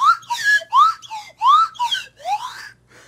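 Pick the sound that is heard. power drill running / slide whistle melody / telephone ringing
slide whistle melody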